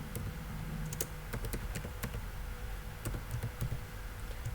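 Typing on a computer keyboard at a desk while writing code, a steady run of light, close key clicks with no talk over them.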